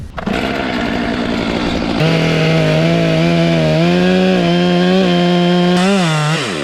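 A chainsaw runs loud and steady at high revs, its pitch dipping and wavering as it cuts a notch into a boxelder tree, then winds down at the end.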